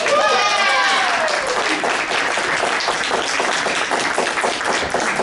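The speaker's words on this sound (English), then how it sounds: "give a big round of applause for the, hold on, let me make sure I'm saying it right" Dense, sustained applause from a theatre audience cheering the fight captains at a stage show, loud and continuous throughout, with a brief whooping cheer rising at the start.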